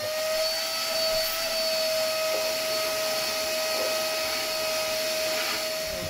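A vacuum cleaner runs continuously with a steady high whine, close and loud, as it sucks up fine sanding dust from a small boat, with faint rattling bits.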